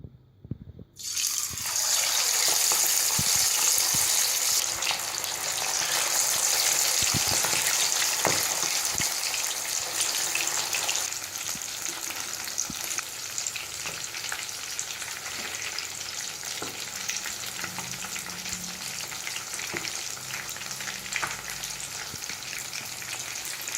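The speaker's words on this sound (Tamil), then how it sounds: "இப்போ காடையை இதில் போட்டு பொரிச்சிடலாம்." Quail pieces deep frying in oil in a kadai give a loud, steady sizzle with crackling pops and bubbling that starts after a quiet moment, then eases slightly and carries on unbroken throughout.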